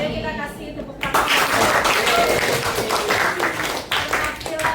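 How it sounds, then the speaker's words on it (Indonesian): Classroom audience clapping for an award-winning film, bursting in after a brief spoken moment and continuing as a dense round of hand claps that dips once and resumes. "Jadi kita kasih tepuk tangan."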